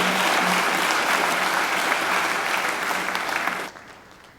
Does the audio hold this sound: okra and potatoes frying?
no